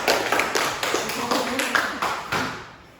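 A high school class in an Indonesian group counselling session claps together on cue, a short series of sharp, rhythmic claps in a pattern, close and fairly loud, with voices mixed in.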